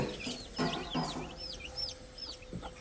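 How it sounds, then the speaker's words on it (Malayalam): One-month-old native chicks, hatched at home in Thrissur district, give repeated high cheeping calls with a few soft clucks, fairly faint and continuous, with no voices. "1 മാസം വീതം പ്രായമുള്ള നാടൻ കോഴിക്കുഞ്ഞുങ്ങൾ വിൽപ്പനക്കുണ്ട്."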